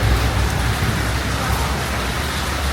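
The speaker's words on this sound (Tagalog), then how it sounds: "Pero umuulan." Steady, heavy afternoon rain falls in Kuala Lumpur in October, a dense, unbroken hiss of drops on hard surfaces that fills the scene evenly from start to finish, with no voices.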